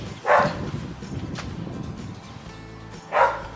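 A dog gives two sharp, loud barks close by, one at the start and one near the end, with quieter rustling in between.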